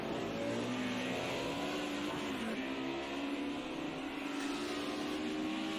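DTM race cars run door to door at Oulton Park, engines droning loudly and steadily with rising and falling pitch as they pass close, continuous throughout with no talking.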